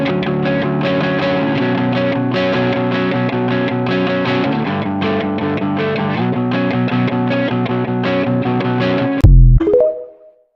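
Distorted electric guitar plays a riff from Fortnite Festival, a dense, loud, steady stream of chugging notes that repeats, then a sharp final hit and a quick fade to silence, with no talking.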